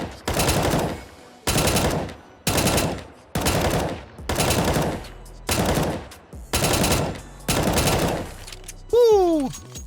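M4 rifle fire in Counter-Strike: Global Offensive, heard as eight evenly spaced loud bursts of rapid shots, each lasting under a second, ending in a rising synthetic whine.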